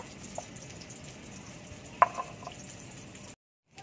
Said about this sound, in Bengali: বেগুনগুলো ভাজা হয়ে গেছে তুলে নেবো